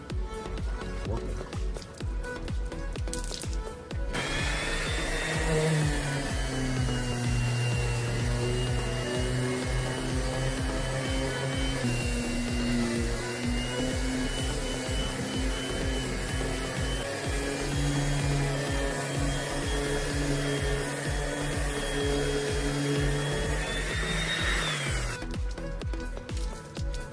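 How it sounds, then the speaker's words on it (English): A power sander runs steadily against a boat hull to remove tannin stains, a sustained whining buzz with shifting tones that starts a few seconds in and stops near the end, loud and close. "Now I am using a power sander, so I am being extra careful not to electrocute myself"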